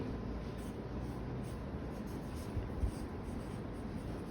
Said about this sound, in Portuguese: eu vou colocar aqui e vou escrever o inteiro.